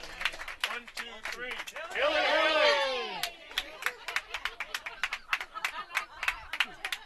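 Crowd at a college baseball tournament game, Missoula Mavericks at Bozeman Bucks, bursts into a loud swelling cheer with whistles after a strikeout, then settles into scattered clapping and chatter.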